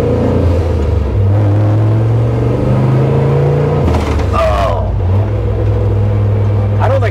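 A Chevy OBS truck with a turbocharged LS engine and six-speed gearbox accelerating hard, a loud close droning engine note climbing in pitch, a shift midway, then pulling again, with excited shouting from inside the cab.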